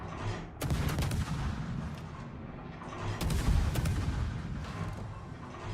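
Heavy naval guns from World of Warships firing in a ranked regional match, booming salvos that stack into dense, rumbling bursts around the two-second mark and again near three seconds, loud and close with no talk over them.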